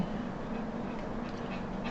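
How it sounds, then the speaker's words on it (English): A dog makes odd whimpering, whining noises in the background of a quiet indoor room, a steady low murmur lasting a couple of seconds with no talk. "I'm hoping that my dog is not making some really weird noises in the background this morning because he's being weird."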